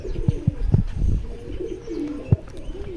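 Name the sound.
pigeons cooing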